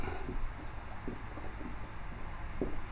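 Handwriting in a physics lesson on thermal expansion, with soft scratchy pen or chalk strokes coming in short irregular bursts against a steady background hum.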